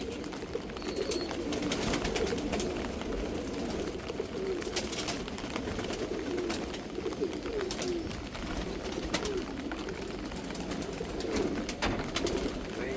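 Pigeons in a cage cooing in low, throaty repeated murmurs that run continuously, with faint rustling and clicks of birds moving nearby.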